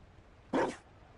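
A single short dog bark in the video game Dragon Age Inquisition, crisp and fairly close over a faint quiet background.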